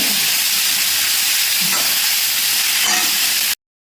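Curry ingredients roasting in a pan for a big bean (vanpayar) curry, a steady loud sizzle and hiss continuous throughout, cutting off abruptly at the very end.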